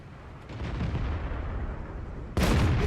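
A tank gun fires in a tank video game from an AMX CDC, a single loud, sharp blast near the end that rings on, following a low rumbling engine and battlefield noise.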